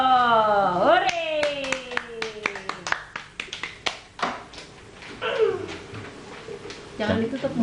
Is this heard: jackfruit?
no